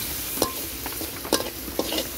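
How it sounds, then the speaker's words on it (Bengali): Ground coriander and other spices stirred and lightly fried in a pan while cooking a Bengali jiol fish curry, with a soft steady sizzle broken by three sharp scrapes of the stirring spoon against the pan. "তো দেওয়ার পর নাড়াচাড়া করতেছি, হালকা ভাজা ভাজা করবো আর কি।"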